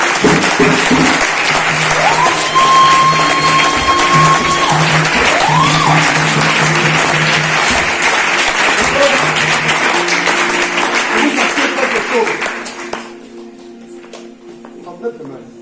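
A church congregation at a marriage seminar claps loudly and steadily in praise of Jesus, dense applause with sustained cheering voices and tones over it, fading away near the end.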